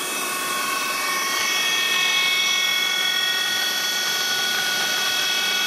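Steady high-pitched whine of a CNC mill cutter machining a Subaru wheel, a continuous loud tonal drone with several sustained overtones and no pauses.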